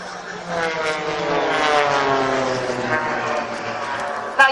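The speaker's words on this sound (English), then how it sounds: "The two aircraft in the middle of the formation are going to brake in front of one another" Propeller aerobatic aircraft of the Blades display team fly a crossfire break at an airshow at Cosford, a loud droning engine note rising and bending in pitch as they pass, with crowd noise faintly underneath.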